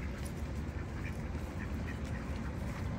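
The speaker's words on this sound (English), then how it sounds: "Those are ducks." Ducks quack repeatedly at a moderate distance over a steady low rumble of background noise, with no talking.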